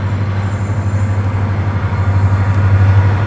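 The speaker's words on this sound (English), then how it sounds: "a train is coming down the way" A train rumbles past outdoors with a steady, loud low rolling roar that swells slightly toward the end, heard alone with no talk.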